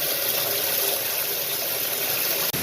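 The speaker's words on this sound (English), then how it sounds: "you can see here that the water's still filling up" An overflowing washing machine keeps filling with water, a loud, steady rushing gush with a faint mechanical hum underneath, heard close and continuous, with a brief dropout near the end.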